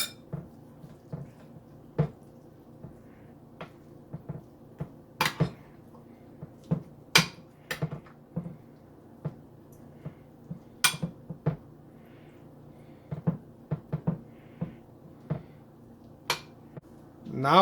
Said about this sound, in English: we'll add about half cup of bundi into the yogurt mixture, and then again mix it well